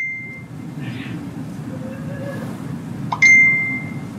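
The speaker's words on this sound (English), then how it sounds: "my phone was going off." A mobile phone sounds a short electronic ring or notification tone, a bright sustained beep with a brief chirp before it, heard once near the end over steady low background noise.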